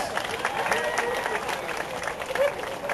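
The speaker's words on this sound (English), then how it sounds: "Let's give them a round of applause." Festival awards crowd applauding outdoors, steady clapping mixed with crowd murmur and voices talking underneath, fairly close and even in level.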